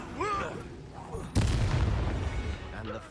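A Bombarda or Confringo spell blast in the Hogwarts Legacy video game lands as a sudden loud boom midway, followed by a rumbling, crackling tail, with voices and game sounds before it.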